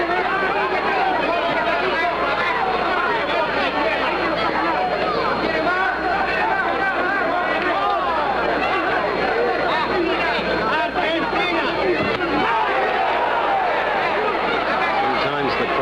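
Boxing crowd at a Jimmy Ellis versus Oscar Bonavena fight, a steady dense roar of excited voices and babble that holds at one level throughout.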